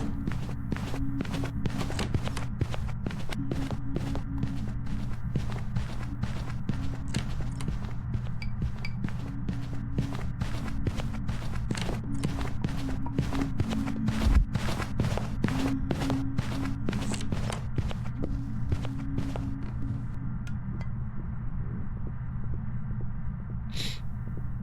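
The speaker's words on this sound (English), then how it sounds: "first thing we're going to focus on is footstep speed" Ghost footsteps in the Phasmophobia video game, a fast, steady run of sharp repeated steps that continues for over twenty seconds over a constant low hum, then stops near the end with no talking.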